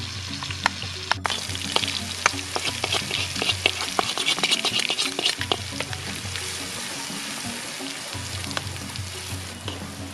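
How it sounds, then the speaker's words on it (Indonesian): A ground spice paste sautés in hot oil, frying loudly with dense crackling and popping while a utensil stirs and scrapes at intervals, close up and with no voices. "kita lanjut tumis bumbu yang tadi udah diulek."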